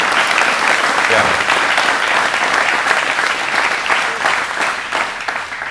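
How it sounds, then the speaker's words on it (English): Loud, dense applause from a prison audience fills the whole stretch, steady and sustained before slowly easing off near the end. "Yeah, clap for all of you."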